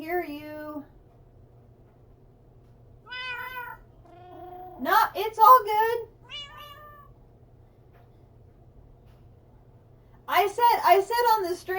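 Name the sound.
cats meowing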